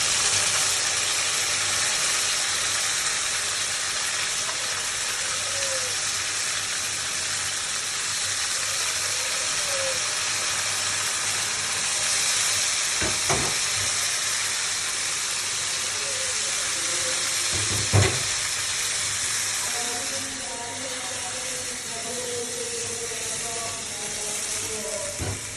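Meat frying in a pan gives a steady, fairly loud sizzling hiss that runs unbroken throughout, with a couple of brief sharp crackles partway through.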